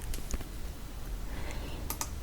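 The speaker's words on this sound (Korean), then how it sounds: "이미지 폴더를 더블 클릭" A computer mouse clicks while Photoshop CC 2021 is being used, giving a few sharp, close, light clicks and a quick double click near the end over faint room hum.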